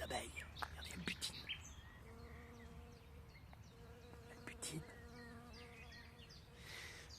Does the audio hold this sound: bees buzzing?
yes